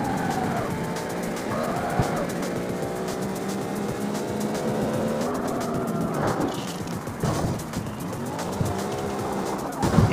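Racing cars in the CarX Street mobile game roar with layered, rising engine tones and squealing tires that run continuously at close range, punctuated by a few sharp thuds of collision near the middle and the end.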